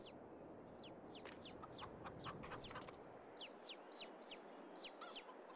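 A flock of chickens in Farming Simulator 22 clucks in a quick series of repeated chirpy calls over a steady low murmur of barnyard ambience, fairly quiet and with no talking.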